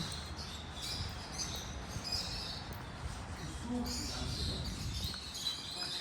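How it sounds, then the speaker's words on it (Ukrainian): Birds chirp and sing steadily outdoors beside a hotel restaurant terrace in Side, Turkey, high trills layered over a low rumbling background hum, with no pause throughout. "з справа у нас пташки, тому спів такий класний"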